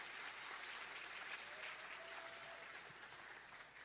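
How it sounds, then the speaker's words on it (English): Applause at a preparatory academy event honouring the school's founder, a faint, steady hiss of many hands clapping at a distance, even in level for nearly four seconds. "a round of applause"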